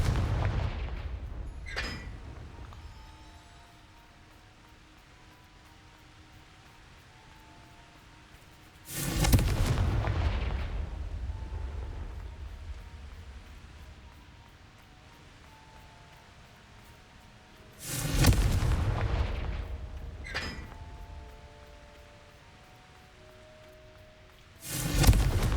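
In the game Hogwarts Legacy, Confringo fire spells land as three loud, booming blasts spaced roughly eight seconds apart, each with a long rumbling decay over a quiet backdrop of game ambience and sharp sparkly effects.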